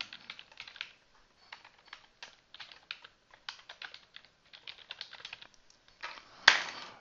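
Someone types an email reply on a computer keyboard, producing a long run of quick, light, close key clicks with uneven rhythm, ending in one louder key strike.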